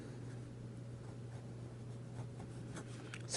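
Faint, close scratching of a Lamy Safari fountain pen with an oblique medium nib moving across paper, soft and steady under a low background hum.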